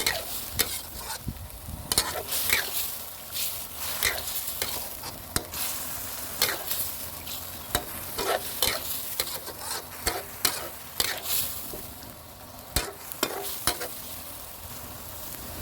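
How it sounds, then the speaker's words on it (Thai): Red curry paste and pork simmering in a pan, a close, steady sizzle broken by repeated scraping and clicking as a utensil stirs against the pan, with no talking. "เราจะ เคี่ยว พริกแกงกับ เนื้อหมูก่อนนะครับ"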